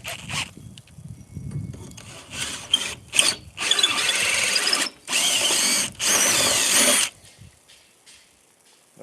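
A power drill runs on a homestead project in several bursts, starting with short stutters and then settling into three longer whines with pauses between them, close and loud.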